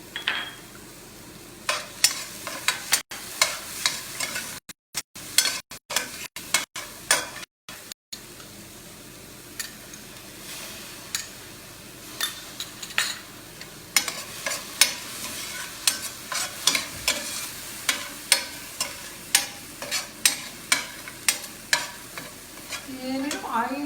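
Garlic and cumin sizzle in a pan while a utensil stirs and scrapes them, a steady frying crackle close by with repeated rhythmic scraping strokes against the pan.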